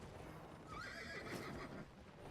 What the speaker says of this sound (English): Taking a tier 5 horse.